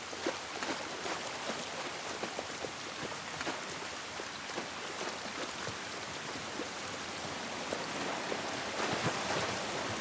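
Steady rain from The Last of Us Part 1 pours down outdoors, a dense continuous hiss with scattered drop patters throughout, moderately loud and with no voices over it.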